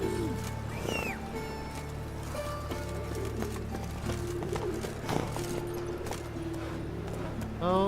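Galloping horse hooves in The Witcher 3: Wild Hunt, a steady rhythmic clatter beneath background game ambience, birds and faint voices.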